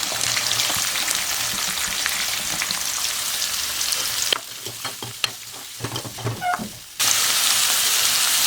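Onions added to a pan with crushed garlic, sautéing for a drumstick egg thokku; a loud dense sizzle with stirring scrapes, dropping briefly to quieter clinks and stirring before the full sizzle returns.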